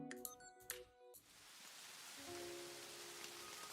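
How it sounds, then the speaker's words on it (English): Rain falling in a steady soft hiss that fills the background, faint but constant, with some brief tonal game-like sounds over it at the start and again near the end. "Amidst the sound of the rain, I could hear the sound of my own heart pounding."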